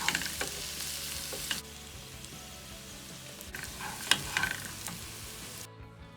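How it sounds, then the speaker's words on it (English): Vegetables sizzle and crackle steadily in a hot pan, with occasional stirring scrapes and louder spatters; no one speaks. "I usually make mine by frying a bunch of vegetables together and adding spices"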